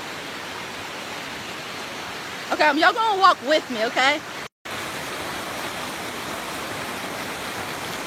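Steady broadband rush of running water outdoors, constant and fairly close throughout, with a person briefly talking over it partway through before the flow continues alone.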